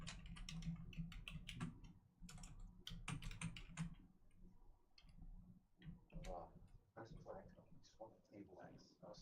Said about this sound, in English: I was just typing in a message for John Williams.